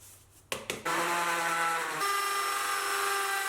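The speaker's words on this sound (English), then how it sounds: "while I'm drilling into the soffit" A power drill whirs up in a couple of brief bursts, then runs steadily at high speed, grinding into a soffit at close range.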